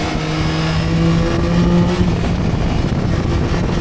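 A 2025 Yamaha Tracer 9 GT motorcycle pulls hard under acceleration, its loud engine note climbing in pitch over a constant roar of wind and road noise, heard close from the rider's position with no voices.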